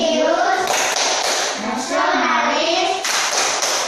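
A school class performs a rhythmic clap chant, children clapping in unison while chanting words aloud together, close and loud with brief pauses between phrases.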